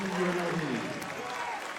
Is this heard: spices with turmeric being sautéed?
no